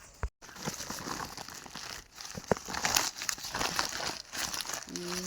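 A plastic packet cover being torn open makes close crinkling, rustling and ripping sounds in uneven bursts, with someone talking at times.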